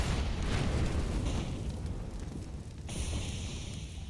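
Grenade blasts in a CS:GO pro match on the Ancient map: a deep, rumbling, sustained boom with crackling debris, loud and fairly close, and no talking over it.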